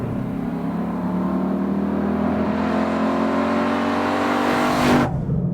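A Ford Mustang Boss 302 V8 engine drones loudly at steady high revs, swelling briefly near the end before cutting off abruptly.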